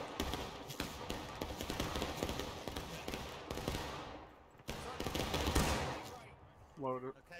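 Musket volleys crack out in the War of Rights battle game, rapid overlapping shots from a firing line, loud and near, with voices calling out between the bursts.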